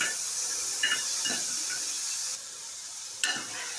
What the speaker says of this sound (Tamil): இப்போது தக்காளி வந்து நல்லா வதக்கிக்கலாம்